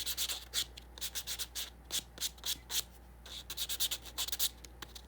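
Fingernails being buffed by hand, a close, soft rhythmic rubbing in quick bursts of strokes separated by short pauses, with a low steady hum underneath.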